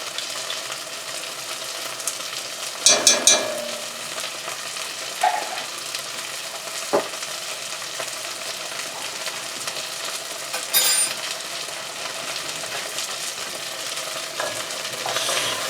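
Pre-minced garlic sizzles steadily in a hot frying pan as it is stirred, a soft continuous crackle broken by a few sharp scrapes and clinks of the utensil against the pan.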